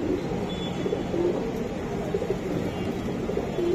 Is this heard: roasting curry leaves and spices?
no